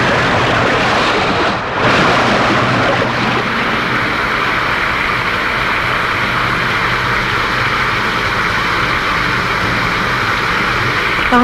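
Steady heavy downpour roars close and continuous with a broad wash of noise and a brief dip partway through; no distinct thunderclap stands out, and no one speaks.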